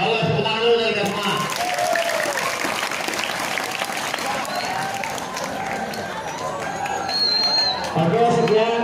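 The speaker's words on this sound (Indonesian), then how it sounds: "tepuk tangan dulu dari semua" School students clapping together during a police visit at a school orientation, a loud continuous burst of applause mixed with crowd noise and chatter, with voices audible through it.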